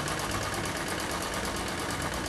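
An electric sewing machine stitching a collar chudidhar runs in a fast, steady mechanical whir with a rapid even pulse of the needle, close and continuous for a couple of seconds.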